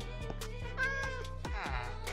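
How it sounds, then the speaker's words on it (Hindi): A cat in the Minecraft video game meows repeatedly, several short tonal mews in quick succession, clear and close, with no one talking over them. "ये क्या खाती है, बिल्ली?"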